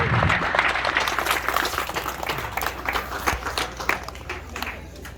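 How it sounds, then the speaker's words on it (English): Audience applause at an Army swearing-in ceremony for future soldiers at a recruiting station, steady dense clapping from a crowd filling the room for about five seconds with faint voices mixed in. "Let's give them a round of applause."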